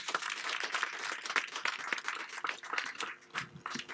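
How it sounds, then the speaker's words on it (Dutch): An audience at a Nakba gathering in Rotterdam's Botanical Garden gives a round of applause, uneven and moderately close, with individual claps standing out as it tapers off. "Mag ik nogmaals een applaus voor Ibrahim"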